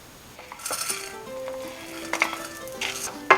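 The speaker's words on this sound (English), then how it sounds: "Let the dal and rice get roasted to some extent, then we can add these, otherwise they start spluttering." Dal and rice dry-roasting in a pan for vathal kuzhambu, with a steady low sizzle, scraping stirs and a few light metallic clinks of a spoon against the pan, close and moderately loud with no talking.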